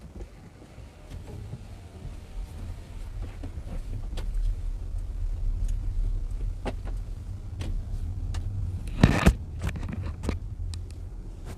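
A Mercedes EQS 450+ electric car pulls away and drives, a low, steady road rumble with faint whine, soft clicks and a couple of sharper knocks near the end.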